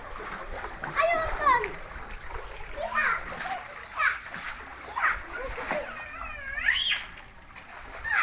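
Children play and splash in a small backyard pool at home, irregular splashes and sloshing water close by, mixed with excited kids' voices and chatter throughout.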